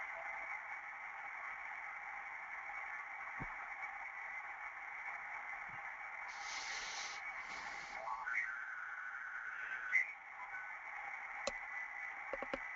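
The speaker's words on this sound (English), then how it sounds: "Okay, there's Morse code," Morse code CW tones picked up on a ham radio receiver, keyed bursts sitting in a steady band of hiss and static that runs the whole time, with no voices.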